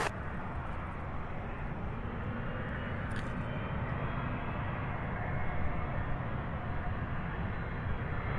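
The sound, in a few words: UPS Boeing 757 taxiing at Louisville airport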